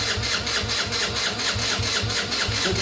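A Yamaha 80cc quad engine runs right after starting, with a close, steady chugging pulse repeating evenly at a low idle and no throttle.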